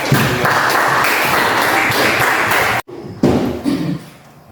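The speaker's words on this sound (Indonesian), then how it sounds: "sekali lagi kita kasih aplaus yang semangat" Loud, dense applause from a class audience fills the room, sustained and close, breaks off abruptly, then resumes briefly in scattered claps before fading.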